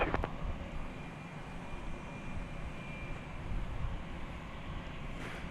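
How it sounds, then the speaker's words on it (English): An American Airlines Airbus A321 jet at DFW Airport in the evening makes a faint, steady, low rumble at a distance, with a light wash of wind over it. "This is American Flight 446 and Airbus A321."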